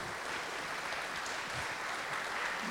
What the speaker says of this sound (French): Je vais vous demander de les applaudir parce que ça donne du courage